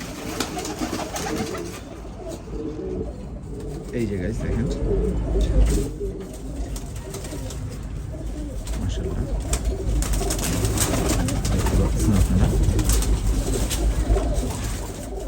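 A pigeon from an old champion bloodline, in moult, coos in low repeated calls close by, under steady talk and background noise.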